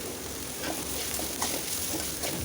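Onions with salt sautéing in a pan for mint chutney give a steady, soft sizzle with faint intermittent stirring scrapes, close but quiet throughout.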